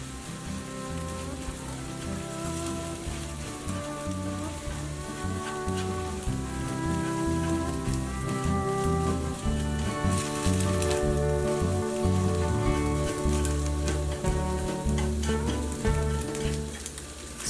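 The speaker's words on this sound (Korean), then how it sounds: "어느 정도 팬이 예열되었다면 달걀을 스크램블 합니다" Beaten eggs being scrambled sizzle and crackle steadily in a preheated pan, a constant frying hiss with soft stirring, while gentle music plays quietly underneath.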